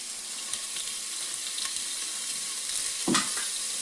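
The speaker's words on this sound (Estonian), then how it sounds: "Ja siia õli peale ma panen nüüd porgandi" Carrot strips frying in oil in a pan give a steady close sizzle with fine crackling throughout, with a brief louder pop or stir near the end.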